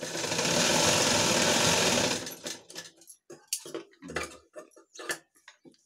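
A sewing machine runs a half-inch hem on blouse fabric, a fast, loud continuous stitching rattle lasting about two seconds, then stopping and giving way to scattered soft clicks and handling taps.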